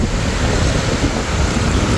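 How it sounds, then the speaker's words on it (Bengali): Sea surf washing onto a beach on the Barguna coast near the Sundarbans side, with forest behind; a steady, loud roar of waves mixed with wind buffeting the microphone, no voices. "এটা হচ্ছে সেই সমুদ্র"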